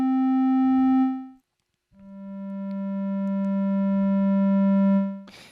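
A subtractive synthesizer sounds a pure, steady tone that fades to silence, then returns and swells before its level drops away again, heard alone and close.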